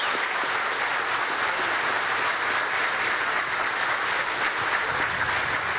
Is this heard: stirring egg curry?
no